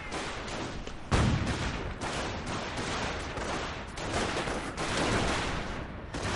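Concentrated gunfire in a real-time strategy battle: rapid overlapping shots and bursts of machine-gun fire, loud and continuous with a heavier impact near the start, no voices.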